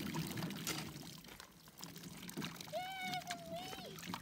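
Water pours steadily over freshly harvested fall garden vegetables being washed, a continuous close splashing rush with a brief high tonal squeak partway through.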